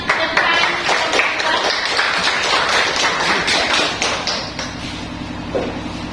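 A group in a classroom claps their hands together, a burst of quick overlapping claps that stays fairly loud and then thins out toward the end, with no talking over it.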